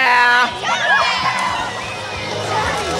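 A crowd of sixth-grade children at a pool party shouting and whooping together, loud and excited, with overlapping high voices that rise and fall.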